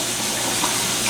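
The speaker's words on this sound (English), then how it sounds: "I'm gonna rinse my hands off so I can get some more of this bacon in" Hands are rinsed under a running kitchen tap mid-way through preparing bacon-wrapped backstrap. Water gushes steadily and close, filling the whole moment with a dense splashing hiss.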